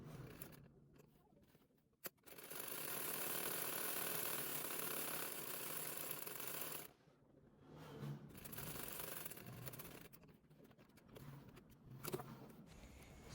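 Sewing machine running steadily while stitching down the edge of an aso-oke bubu gown, a continuous mechanical whir with brief pauses and restarts near the listener.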